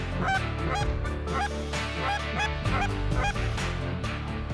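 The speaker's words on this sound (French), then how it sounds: "Là, on se cache, ils rentrent des outardes." Canada geese fly in toward hunters in Lanaudière, Québec, their loud honks repeating in an irregular chorus over several seconds, close and overlapping.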